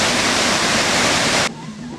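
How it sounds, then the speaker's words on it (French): Rushing water roars at the confluence of two rivers in Haut-Lomami, DRC. A loud, steady, close wash of noise drops abruptly to a quieter murmur partway through. "Croisement de deux rivières"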